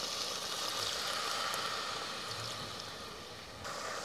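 Half a cup of water is poured into a cooking pot of keema spiced with garam masala. A steady splashing rush lasts a few seconds, close by, easing briefly before a final burst.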